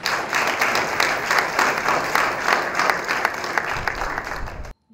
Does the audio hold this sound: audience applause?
yes